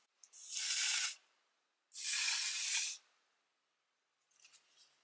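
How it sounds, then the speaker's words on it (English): One Size Until Dawn mattifying waterproof setting spray hisses out in two long, close bursts of about a second each, with a short pause between, then faint rustling. "We're just gonna go in with a bit of the One Size Until Dawn mattifying waterproof setting spray."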